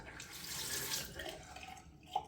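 Rinsing under running tap water during a wet shave with a safety razor, a steady close hiss of flowing water that tapers off, ending with a small splash.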